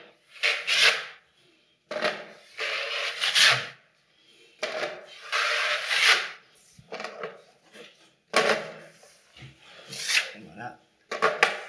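A smoothing blade, 45 and 25 cm, spreading filler plaster across a ceiling, repeated scraping sweeps in bursts of one to two seconds with short pauses between, close and rasping.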